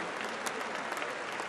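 Brief stretch of continuous audience clapping at a Papa Wemba tribute in Abidjan, dense and steady with a few louder individual claps standing out.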